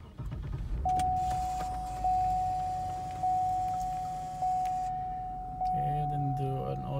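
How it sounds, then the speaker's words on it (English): Cadillac STS switched on, with repeated electronic chimes and a faint whine over steady cabin hum, then a fan or engine note rising near the end; close and fairly loud with no speech. "probably just turn on my car."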